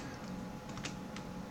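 A few quiet keystrokes on a computer keyboard as a short command is typed, light separate clicks over a low steady background hum, faint and without speech.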